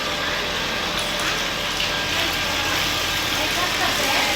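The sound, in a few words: water pump motor running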